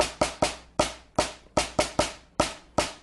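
Sharp, crisp drum strokes hit in a steady pulse, with some beats doubled into quick pairs of hits, each ringing briefly before fading.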